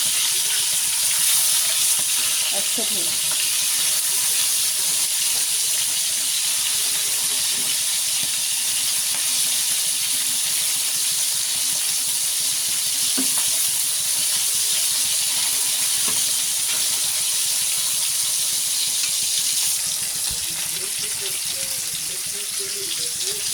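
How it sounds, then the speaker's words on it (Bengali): A hilsa fish fries in a pan with a steady close hiss of hot oil, a few scraping taps as it is turned, and someone speaks briefly over it. "মাছটা ভাজা হয়ে গেছে, এখন উল্টাতে আছি"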